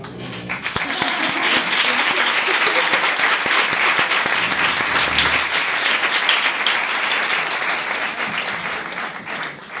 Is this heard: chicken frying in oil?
no